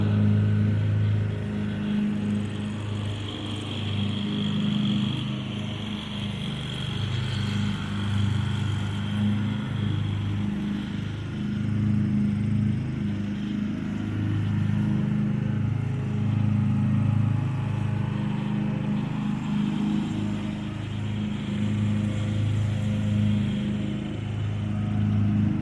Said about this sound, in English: So we got to hear both the weed eater and the lawnmower.